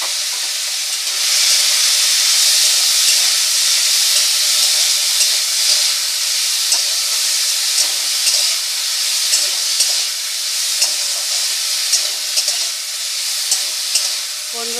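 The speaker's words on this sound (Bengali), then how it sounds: "তেলটা গরম হয়ে গেছে, এবার আমি মাছটা ভেজে নিচ্ছি" Fish fries in hot oil for a prawn and taro-leaf dish, a loud, continuous bright sizzle and crackle that holds steady throughout with faint ticks of popping oil.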